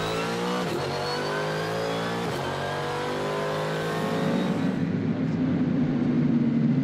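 A Mercedes SLS GT3 race car on the Hockenheim circuit screams through rising engine revs with quick gear-change dips, then swells into a loud, rough roar as it passes close by.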